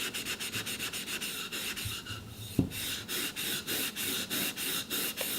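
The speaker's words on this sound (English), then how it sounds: "we're going to be quite aggressive in polishing that. We're going with the grain of the bamboo." Steel wool scrubbing bamboo lengthwise along the grain, a steady rhythm of close, rasping strokes repeating about twice a second, with one sharp knock partway through.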